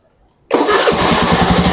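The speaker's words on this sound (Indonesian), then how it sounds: "motor harus dalam keadaan dibunyikan ya, atau dinyalakan." Honda Beat motorcycle engine starts abruptly after a moment of near silence, then settles into a loud, steady running putter close by.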